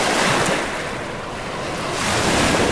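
Ocean waves wash onto a beach at Rocky Gap Park. A loud, steady roar of surf swells, eases slightly, then builds again, with wind buffeting the microphone and no voices.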